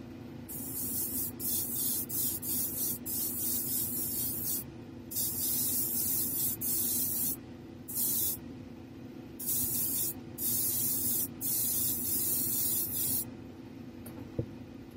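Short repeated hissing bursts of an airbrush laying a light mist coat of paint on a 1/4 scale figure, close and crisp with brief gaps between passes.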